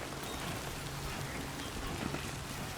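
Steady rain in the video game Death Stranding 2, a constant even hiss of falling drops with no talk over it.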